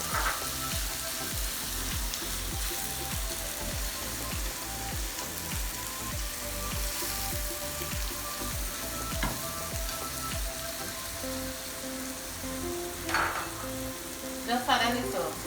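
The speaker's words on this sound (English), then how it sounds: "Saute the seasoning, pepper, onion, tomato." Seasoning, pepper, onion and tomato sautéing in a pan, a steady close sizzle and crackle throughout with light stirring scrapes near the end.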